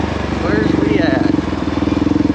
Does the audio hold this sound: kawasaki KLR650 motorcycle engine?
yes